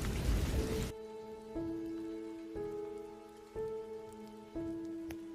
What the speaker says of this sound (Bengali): আবারও ঝমঝম করে বৃষ্টি শুরু করলো আকাশে।